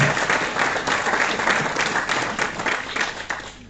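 An audience claps steadily to welcome the mayor at an evening tournament draw event in Dirinon, a dense, continuous round of applause lasting several seconds at fairly close range.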